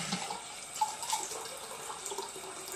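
Tepid tap water runs steadily into a sink or tub while a full-body silicone doll is rinsed during a bubble bath, a soft continuous splashing stream with faint drips, fairly quiet and with no talking.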